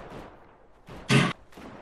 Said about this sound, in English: Oops, somebody's shooting.